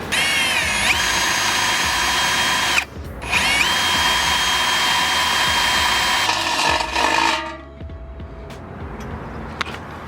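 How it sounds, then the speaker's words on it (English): A power drill bores out holes in a metal bracket for an air suspension tank, whining loudly and steadily up close, pausing briefly, then running again before spinning down into quieter background noise. "I'm gonna drill out the hole on here."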